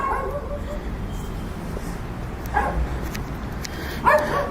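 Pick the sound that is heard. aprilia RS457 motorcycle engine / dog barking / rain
dog barking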